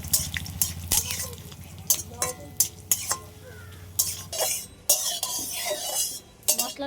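Whole spices (dried red chillies, coriander seed, peppercorns, bay leaf, cardamom, cloves, cinnamon and cumin) fry in very hot oil, with several sharp clinks and scrapes of a utensil against the pan over a low rumble and soft sizzle.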